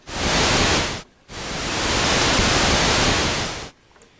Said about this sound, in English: So there's your noise source.